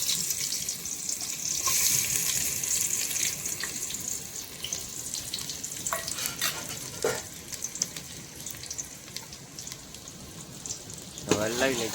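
Onions fry in oil in a pan with a continuous watery hiss and crackle. There are occasional scrapes and clinks of stirring, and a voice is faintly present.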